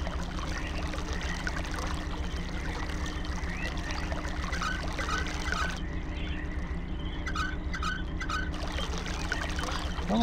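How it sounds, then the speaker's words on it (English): Running water in the Myst video game pours and trickles steadily, a continuous watery wash with light splashing layered over a low ambient hum for the whole stretch. "Well, I hear running water now."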